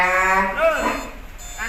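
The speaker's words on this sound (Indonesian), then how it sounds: "Seperti ini sapi-sapinya dari belakang." Cattle in a pen with a stock of thirteen head, a drawn-out moo in the foreground, close and fairly loud, with steady background noise.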